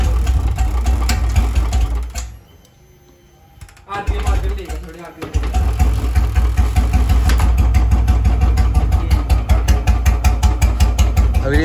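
A BS6 Royal Enfield Bullet motorcycle with new wiring sputters, cuts out briefly, then catches and settles into a loud, close thumping idle with rhythmic single-cylinder pulses and light revving.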